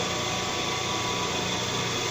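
An asynchronous electric machine running on a lab test bench gives a steady, dense broadband hum and whine with faint tonal lines. It holds at an even level throughout, with no voices over it.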